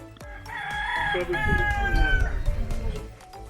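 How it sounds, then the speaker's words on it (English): A loud, drawn-out crowing call from turtles rises and falls like a rooster's cock-a-doodle-doo, followed by clucking and low rumbling noise. "Putting to one side our surprise at seeing turtles that sounded like cockerels"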